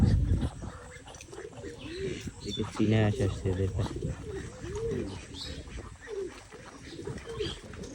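Pigeons coo in low, rolling phrases under someone talking close by, the soft burbling calls repeating throughout.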